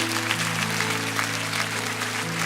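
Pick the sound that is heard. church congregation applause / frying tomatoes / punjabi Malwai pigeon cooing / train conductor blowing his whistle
church congregation applause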